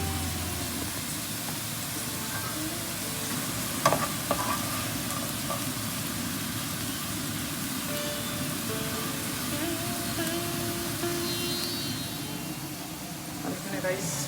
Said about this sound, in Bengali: আলু ভাজা বানাচ্ছি।